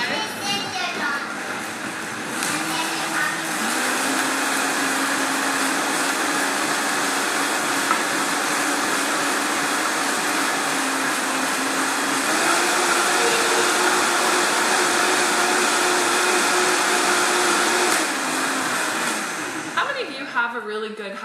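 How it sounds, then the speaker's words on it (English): A high-quality kitchen blender runs for about twenty seconds, a loud, steady whirring roar that changes pitch a few times and then cuts off. "Have a really good high quality blender."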